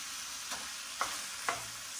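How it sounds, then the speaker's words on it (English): Chicken sizzling in a pan, a soft, steady frying hiss broken by a few quick stirring scrapes, close but quiet. "this chicken is sizzling and it is starting to"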